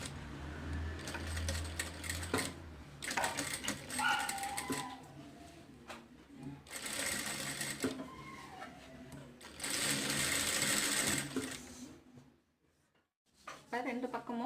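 A sewing machine stitches a cowl sleeve seam for an umbrella frock in bursts of steady rapid whirring, with short pauses between runs and a brief near-silent gap near the end.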